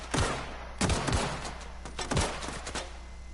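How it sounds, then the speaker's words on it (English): Enemy machine-gun fire in the video game The Outer Worlds rattles out in several short bursts spread across a few seconds, sharp and fairly close, with no talking over it. "He's got a machine gun though"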